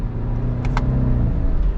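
Turbocharged engine of a 2022 Subaru Outback Wilderness revving up on a paddle downshift, a steady low engine hum inside the car with a brief rising rev, close and moderately loud.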